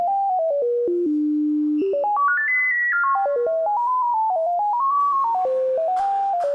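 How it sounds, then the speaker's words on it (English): Electronic tones come from Firefox OS phones, with a single pure synthetic voice stepping up and down through a meandering melody of held and short notes, clear and steady with no talk. "We can generate 2 different tones if 2 different phones are connected."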